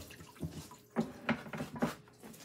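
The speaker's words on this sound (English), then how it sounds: "Rinse off these hands again." Hands being rinsed under a running kitchen tap, water splashing in bursts of several soft pulses over a steady faint flow, close and fairly quiet.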